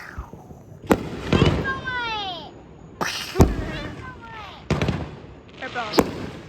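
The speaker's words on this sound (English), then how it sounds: "There's fireworks going on everywhere." Fireworks bursting outdoors at a celebration display, several sharp booms spaced a few seconds apart with crackling tails and rising whistles, while a voice talks between the blasts.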